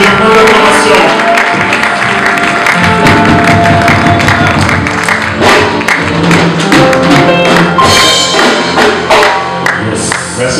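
A church congregation claps and cheers during worship, a loud, dense spread of applause and taps mixed with crowd voices filling the space for several seconds.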